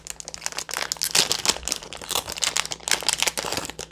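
Plastic wrapping from a Fortnite vending machine toy package crinkles and crackles in quick, irregular bursts as it is torn open close by, with no voices.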